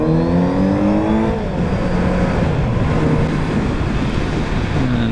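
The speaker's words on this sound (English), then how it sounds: "Out and about with my good buddy Ryan on his Triumph 1050 triple." Triumph 1050 triple motorcycle engine under way on an open ride, loud and close with rising and falling tones as the revs shift, wind rush beneath it.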